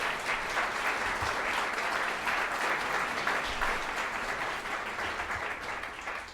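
Indoor audience at an art talk applauding the curator, a steady dense round of clapping from many hands, fairly distant and even throughout, tapering slightly at the end.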